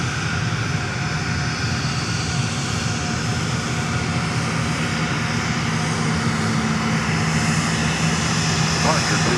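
A large airliner flies over Fort Lauderdale airport, its engines a loud, steady broadband roar that holds the whole time, with radio chatter faintly under it.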